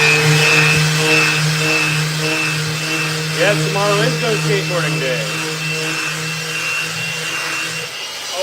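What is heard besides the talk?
orbital sander shaping skateboard decks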